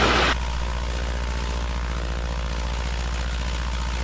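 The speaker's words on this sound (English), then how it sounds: "These little Continental engines, this is a Continental A65." A Luscombe airplane's Continental A65 engine runs at about 1500 RPM during a magneto check, a loud, steady propeller drone heard close up without a break.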